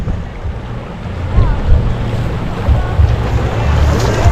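Swirling floodwater current churns in a broad, steady rush, with gusty wind buffeting the microphone throughout and no clear voices.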